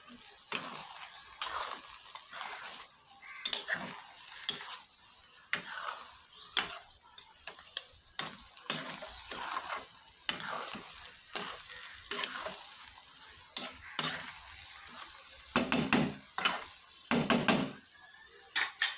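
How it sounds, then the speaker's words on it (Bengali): Meat and rice biryani is stirred in a pot, with repeated scraping and clattering strokes of a utensil against the metal in an uneven rhythm over a soft sizzle, close and alone. "এখন এটাকে ভালোভাবে নেড়ে চেড়ে নেব।"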